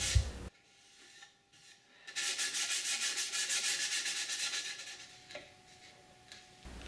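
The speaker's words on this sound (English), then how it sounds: "Here I'm just finishing the sanding by hand and breaking the sharp edges." A child's wooden rocking chair is hand-sanded to soften its sharp edges: a quiet scrape, then a steady, rhythmic rasping of abrasive on wood that swells loud for a few seconds before easing off, with no talking.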